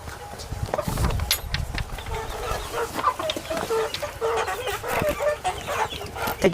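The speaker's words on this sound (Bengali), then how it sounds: "এখানে কি কি মোরগ রয়েছে।" Roosters and chickens in a farm coop cluck and squawk continuously, with occasional crowing cutting through a busy, close flock; a person talks briefly over the birds.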